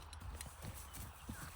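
A horse's hooves clip-clop in a quick, uneven series of faint knocks on the ground, several steps within a short stretch.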